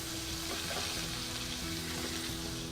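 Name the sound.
beef searing in a hot pan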